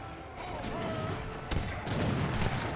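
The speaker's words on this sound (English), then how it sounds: "This is a large amount of falconets, and there are field guns as well." Falconets and field guns fire in an Age of Empires 3 battle, giving a busy, moderately loud mix of cannon booms and crackling gunfire with sharp bursts around the middle and later on.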